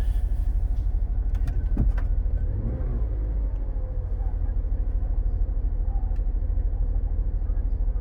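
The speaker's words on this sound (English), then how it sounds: "Okay, we're going to start this Volvo this morning." A 2012 Volvo XC60 engine starting cold on a frosty morning around -8 Celsius, prone to misfiring on cold start, then idling with a steady, close rumble and a few brief clicks early on.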